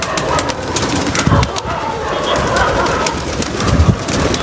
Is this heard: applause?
no